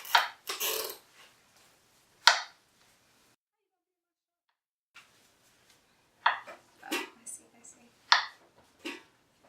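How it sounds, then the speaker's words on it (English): A knife chops through a peeled avocado on a board: a few sharp, close taps, then a pause and a quicker run of cuts near the end. "I like to just go ahead and peel the outside, and then we can just chop it like we would do anything else"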